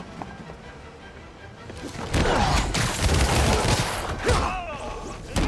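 Gunfire in the video game Marvel's Spider-Man: a quiet lead-in gives way to a loud, sustained fusillade of overlapping shots and impacts that runs to the end, with voices calling out beneath it.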